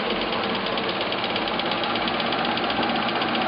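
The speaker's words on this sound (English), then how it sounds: "You can see all the drills are turning at the same time." An Alzmetall floor drill press running a Procunier ten-spindle multi-spindle drill head, giving a steady, dense mechanical drone with fine rapid knocking and vibration throughout, loud and close with no pause.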